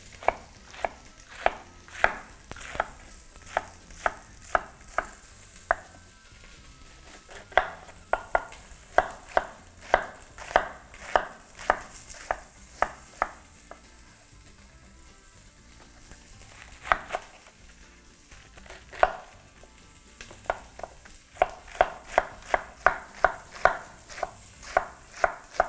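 Knife chopping white cabbage into strips on a board, with quick, sharp regular cuts in bursts and short pauses between runs, close and clear with no talking.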